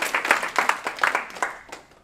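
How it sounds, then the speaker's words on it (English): A small comedy revue audience at the Lava Center claps for a performer, a short burst of fairly close, distinct claps that thins out within two seconds. "Clap it up for Andrea."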